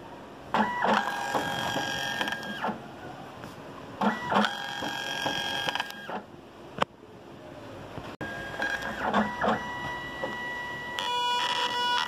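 A Zebra S4M label printer runs after being switched on, giving off three loud mechanical whirring bursts with tonal whines, each lasting about two seconds and separated by quieter gaps, close by with no talk.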